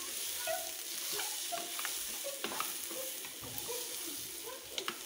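Ghee rice frying in a pan for Malabar-style neychoru, with soft scraping strokes of a spoon stirring the grains over a quiet, steady sizzle, fairly faint and without talk.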